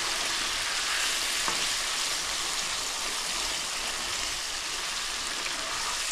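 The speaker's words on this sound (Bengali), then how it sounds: "মিক্সটাকে ভালোভাবে কষিয়ে নিচ্ছি" Kohlrabi curry spice mix frying and being stirred in a pan: a steady, dense sizzle with soft spatula scrapes running continuously at close range, with no talking.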